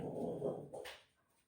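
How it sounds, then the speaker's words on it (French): A neighbour's dog passing outside gives a few muffled barks and whines, faint and somewhat distant, trailing off into quiet. "Le chien du voisin qui passe."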